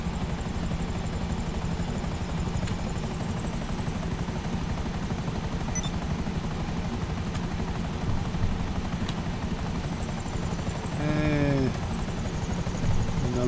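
Stealth helicopter flying in a video game, a steady, loud rotor drone with a rapid pulsing chop throughout, with a brief whooshing pass near the end.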